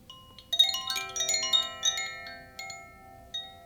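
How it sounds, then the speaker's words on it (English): Koshi chimes ring with a cluster of soft, bright, overlapping tones that shimmer and sustain, struck lightly several times and fading gently in a quiet space. "Koshi bells or chimes."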